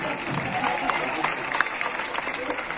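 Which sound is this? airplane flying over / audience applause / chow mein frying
audience applause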